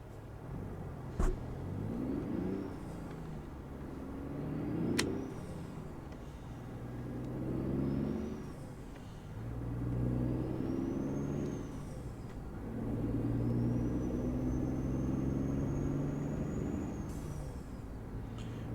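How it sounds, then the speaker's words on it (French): A heavy truck engine rumbles steadily while driving in American Truck Simulator, rising and falling through gear changes, with a faint whining tone above and occasional clicks. "je sais que vous kiffez le bruit de ce moteur"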